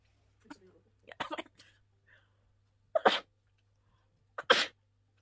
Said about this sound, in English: I'm bound to sneeze